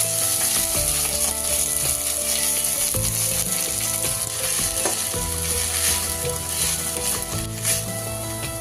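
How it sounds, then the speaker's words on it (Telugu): Mint leaves fry lightly in a little oil in a pan for Telangana-style mint chutney, a loud continuous sizzle with occasional stirring scrapes close by and no voices. "పుదీనా వేసి లైట్గా ఫ్రై చేసుకోవాలి."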